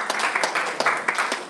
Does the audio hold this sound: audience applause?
yes